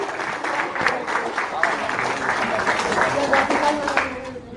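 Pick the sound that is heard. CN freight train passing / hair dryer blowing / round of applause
round of applause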